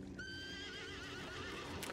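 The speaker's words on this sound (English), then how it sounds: "Now this is tricky here, where you get a horse coming down a river like that." An Andalusian horse coming down a river whinnies loudly and clearly in one long wavering neigh, with hoof clops and splashing close by.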